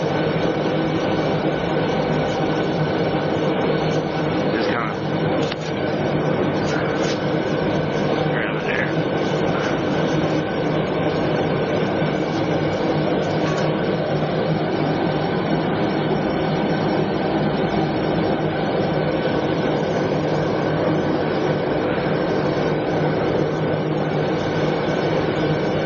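A blacksmith's forge heating a horseshoe file for a file bowie knife roars in a loud, steady, unbroken rush close by, with a few faint clicks and knocks beneath it.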